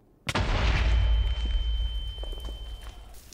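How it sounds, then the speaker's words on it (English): A mining explosion in a video game, blasting out quartz and gold: a sudden loud boom that rolls into a long rumbling decay with a faint steady ringing tone above it, no voices. "I just wanted to use this explosion to get some more of this quartz and gold."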